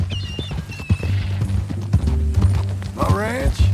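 Horse hooves clip-clop in Red Dead Redemption 2 under a steady low hum and a talking voice, with a few sharper steps standing out.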